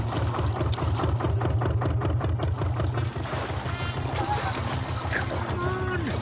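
A small boat's engine at full throttle drones in a rapid, loud, throbbing pulse, then shifts to a rougher churning roar with water splashing, as voices talk over it.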